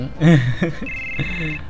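In Final Fantasy 7, a short burst of talking comes first, then a mobile phone's electronic ringtone rings out in a high, steady tone, with talking continuing under it.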